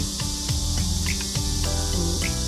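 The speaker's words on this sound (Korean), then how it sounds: "매미가 낮게 소리가 세게 들리면" Steady, shrill cicada drone fills the background without pause, with a few low chirps and rustles scattered underneath.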